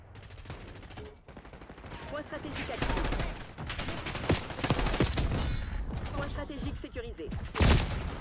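Shotgun blasts in Black Ops 6 amid heavy multiplayer gunfire, loud repeated bursts building toward a sharp close shot near the end, with a voice talking over it.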